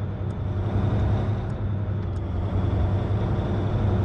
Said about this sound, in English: the truck sounds are not that bad